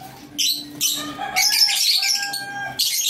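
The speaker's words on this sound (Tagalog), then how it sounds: "yung pangmalakasan nating ibon, Crimino Opa SL" A Cremino Opal pigeon calls with several bright, sharp chirps and squawks in close succession, loud and near, with short pauses between bursts and no talk.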